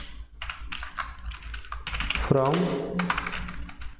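Brisk typing on a computer keyboard while entering data in Tally, sharp key clicks in short bursts close by, mixed with someone talking over them.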